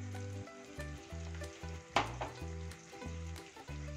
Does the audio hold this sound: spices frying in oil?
yes